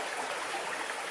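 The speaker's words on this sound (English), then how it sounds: "Let me just pour my coffee" Coffee pours steadily into a cup in a continuous, close, soft liquid stream, running alone without any talk.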